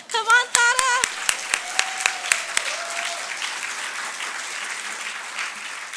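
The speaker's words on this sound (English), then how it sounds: "One more round of applause." Audience applause for a young poet at an awards ceremony, sharp individual claps starting the burst over a brief voice, then settling into a sustained, fairly loud crowd clapping.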